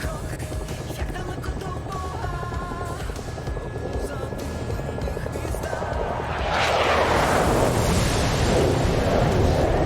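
Su-27 jet flying a loop at an airshow in the DCS flight game, a continuous engine roar that turns into a louder, harsher rushing blast partway through.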